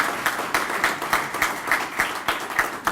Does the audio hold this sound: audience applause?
yes